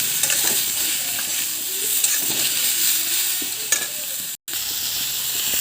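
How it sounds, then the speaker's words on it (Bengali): Turmeric, cumin and coriander powder with ginger frying in a pan, a steady close sizzle with scraping stirring strokes throughout and a brief cut near the end. "সব দিয়ে দেবো মশলাগুলো দিয়ে আবার ভালো করে কষতে থাকবে"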